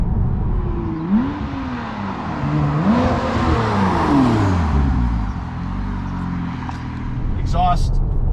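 A straight-piped Porsche 911 Turbo revs, its exhaust note rising and falling in sweeping pulls up close, then settling to a steadier drone, with a voice cutting in briefly near the end.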